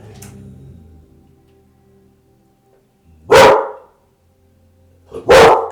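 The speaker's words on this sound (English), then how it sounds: "Excuse my dogs." Two loud indoor dog barks ring out close by, each a single sharp bark separated by about two seconds of quiet, following a faint low rumble at the start.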